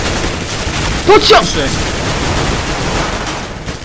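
Gunfire from the video game CS:GO during a matchmaking round, a brief burst of shots over steady game noise while players talk.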